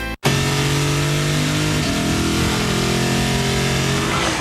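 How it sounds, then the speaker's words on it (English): A Lexus GS six-cylinder engine with an eight-speed transmission revs hard. After a brief dropout it holds a loud, steady drone, then the pitch steps up midway as it climbs through the revs, with no talking. "The 6-cylinder, 8-speed Lexus GS with more standard horsepower than any of its German competitors."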